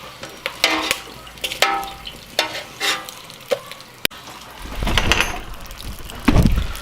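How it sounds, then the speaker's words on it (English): Freshly fried pork rinds for crispy chicharon cooling on absorbent kitchen paper, giving off sharp, irregular crackles and pops close by, with a louder burst of sizzling noise toward the end. "And there they are, crackling away, listen to that."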